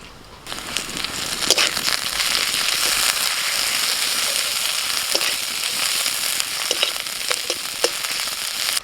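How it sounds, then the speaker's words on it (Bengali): Garlic paste and ginger fry in hot oil with a loud, continuous sizzle, broken by scattered sharp crackles and pops, and no voices. "রসুনটা একটু ভেজে নিয়ে আদা দিচ্ছি।"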